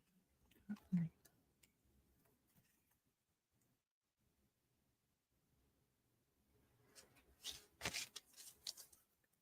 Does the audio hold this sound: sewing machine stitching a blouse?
no